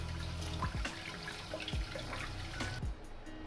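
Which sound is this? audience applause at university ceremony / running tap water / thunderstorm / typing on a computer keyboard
running tap water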